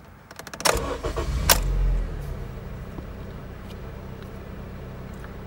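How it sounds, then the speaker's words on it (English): A Honda Civic engine cranks with a quick starter whir, catches with a loud rev, then settles into a steady, quieter idle, heard from close by with no talking. "Okay, we're gonna start the engine."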